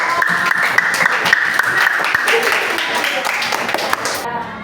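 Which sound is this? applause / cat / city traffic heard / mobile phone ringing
applause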